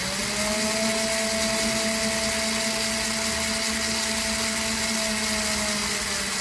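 A small DC motor driven at full speed through an L298N driver from an Arduino spins with a constant, steady whine and hum throughout, no speech.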